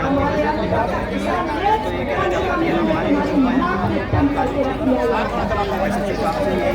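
A crowd at a street gathering in Delhi fills the air with continuous overlapping chatter, many voices talking at once in a dense, steady babble with no single speaker standing out.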